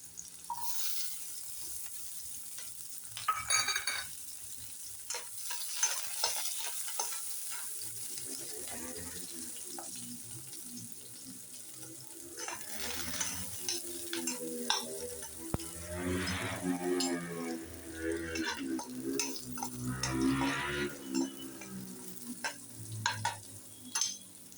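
Chili and garlic frying in a pan for Maharashtrian shepu (dill) bhaji, a steady close sizzle with stirring scrapes and clinks running throughout, no talk.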